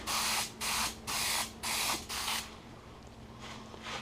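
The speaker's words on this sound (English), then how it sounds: "So let this dry, and then I'm going to spray it again," Aerosol spray paint hissing onto Christmas yard art in five steady bursts of roughly half a second each, evenly spaced and close up, followed by a quieter trailing spritz.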